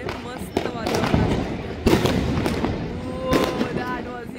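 Diwali fireworks and firecrackers burst over the Ganga in a dense, continuous crackle with several louder booming pops, heard under crowd noise and nearby talking voices.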